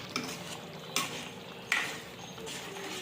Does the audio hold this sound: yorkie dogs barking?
no